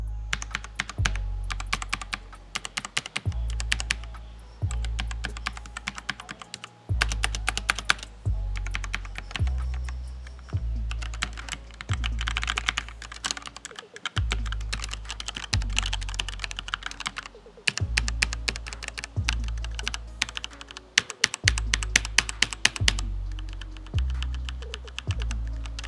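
Rapid typing on an ASUS TUF Gaming K3 mechanical keyboard clatters in bursts, crisp clicky keystrokes with heavier thumps from the spacebar or larger keys, close and alone.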